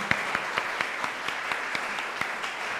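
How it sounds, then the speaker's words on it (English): Evenly spaced claps ring out at a quick, regular beat as a seminar audience applauds a presenter, sounding thin and sparse over a soft background hiss. "So let's give her a round of applause"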